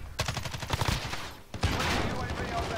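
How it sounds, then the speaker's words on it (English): Gunfire in Call of Duty: Modern Warfare, a rapid burst of close, loud automatic shots, a brief gap, then a thicker, sustained barrage with rumbling noise behind it. "who is shooting?"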